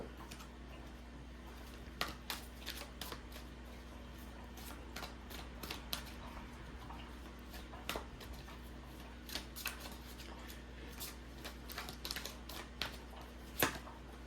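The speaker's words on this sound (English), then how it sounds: "Let's go into some oracle cards here now." Oracle cards are shuffled in a quiet room, a string of soft irregular riffles and taps, faint and close, with no voices.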